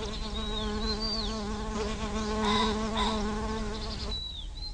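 Bees and other pollinating insects buzz steadily around flowering plants, a continuous close droning hum that holds at an even level throughout, with faint bird-like chirps drifting over it.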